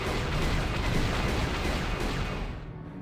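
Continuous rapid turret gunfire from the Knights of the Old Republic minigame, a dense, loud stream of booming shots that fades slightly toward the end.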